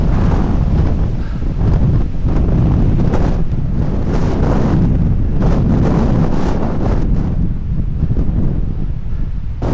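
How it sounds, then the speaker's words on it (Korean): Strong gusts buffet a cyclist on a long climb during a Seorak gran fondo road ride, a loud, continuous roar of wind noise on the microphone that swells and dips but never lets up. "와, 미친 바람."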